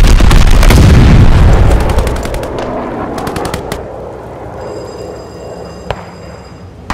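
A loud, dense barrage of bomb blasts and gunfire from the Call of Duty Vanguard video game during a Hardpoint match, with heavy booms at first that fade into scattered sharp shots and crackles.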